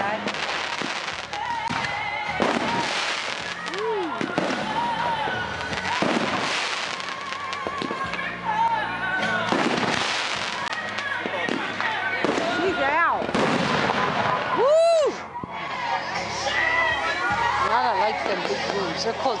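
Fourth of July fireworks grand finale with salute shells, a dense barrage of sharp booms and crackling bursts with whistling rising shells, while a crowd chatters and people talk throughout.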